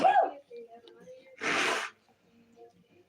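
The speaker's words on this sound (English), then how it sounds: "I have to sneeze." A single sharp sneeze bursts out after some quiet vocal sounds, loud and close, followed by faint breathy noises.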